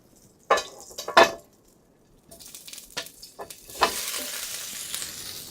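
Food sizzling and frying on a stove inside a heated camping tent, with utensil stirring and pan clatter; sharp scrapes early on, then a steady, fairly loud sizzle building through the rest.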